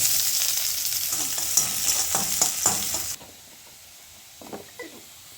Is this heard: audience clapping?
no